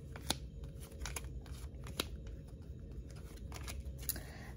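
Tarot cards are shuffled close by, giving quiet, crisp flicks and papery riffles in irregular bursts against a soft background, with no voices.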